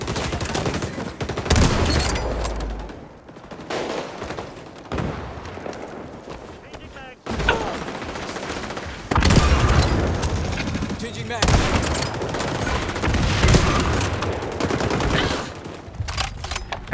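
Rapid gunfire bursts and automatic weapon fire in the XDefiant shooter game, dense and loud across the whole stretch with a brief drop mid-way, while a player talks over the shooting.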